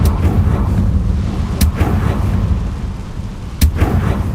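Deep, rumbling booms of the Confringo blasting spell in Hogwarts Legacy, a continuous low roar with two sharp cracking impacts spaced about two seconds apart.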